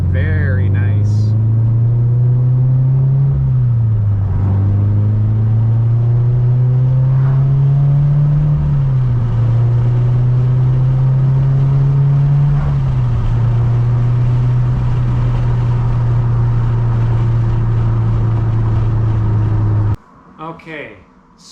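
A Scion FR-S engine hums steadily on the road, its drone rising and dipping with gear changes and throttle as it cruises, loud and close throughout, before cutting out near the end as brief talk begins.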